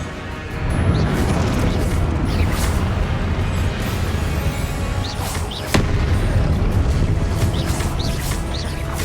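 Spell combat blasts boom and crash in quick succession in Hogwarts Legacy on PS5, loud explosive bursts over a constant roaring battle din, with one sharp crack midway.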